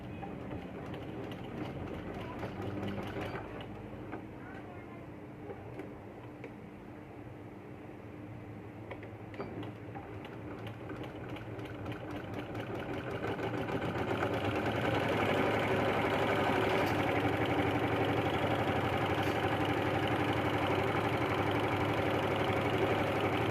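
A sewing machine stitching the side seam of a baby yoke frock, a continuous close mechanical whir that grows louder and busier partway through.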